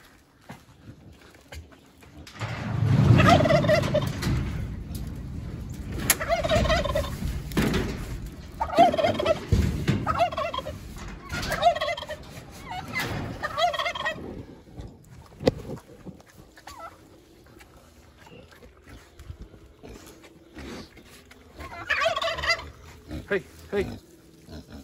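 Turkeys gobble repeatedly in several bursts, loud and close, with a person speaking faintly between the calls.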